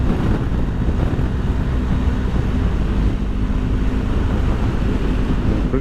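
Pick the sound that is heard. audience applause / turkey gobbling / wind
wind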